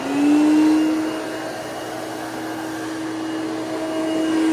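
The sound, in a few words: Hoover Celebrity QS vacuum cleaner running on high speed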